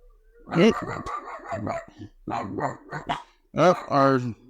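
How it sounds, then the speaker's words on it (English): Dogs bark in several short, loud bursts, a couple of barks coming close together near the end, with nothing else between them. "the dogs are going crazy"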